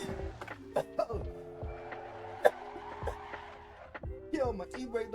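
Drifting car in the Assetto Corsa racing game, with screeching tire squeal and a steady engine drone, the squeal rising and falling in long sustained bends with a sharp spike midway, close and loud, under some faint talk.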